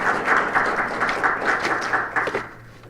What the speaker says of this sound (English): Please help me welcome him with a nice round of applause.